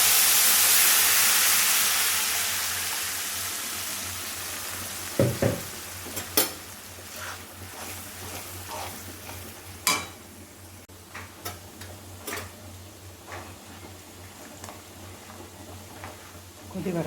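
Curry leaves kulambu in a pan, a soft steady hiss and sizzle as it heats, with a few sharp clinks and scrapes of a spoon stirring, close and moderately quiet.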